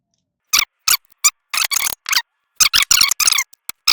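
A stubborn screw on a Honda twin-cylinder head's cam cup is worked loose, giving a series of sharp, squeaky metallic bursts in irregular rhythm with silent gaps between them, close and fairly loud.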